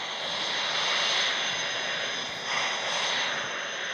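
Airplane engine in the Flight Simulator 2018 video game, a steady broad roaring whoosh that holds loud and even throughout with slight swells and no voices.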